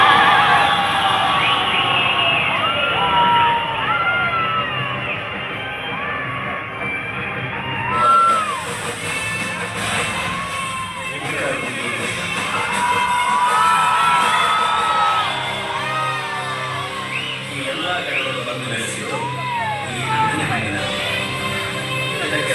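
A packed cinema audience at a blockbuster film screening roars with cheers, whoops, shouts and sharp whistles, a dense, loud crowd din that swells and surges for the whole stretch.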